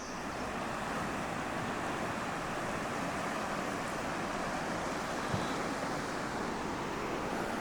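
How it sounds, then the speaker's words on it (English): A river babbles softly close by at a wild riverside campsite in Dalmatia, a steady, even rush of flowing water running unbroken and fairly quiet, with no voices. "sleeping to the sounds of the river babbling softly close by."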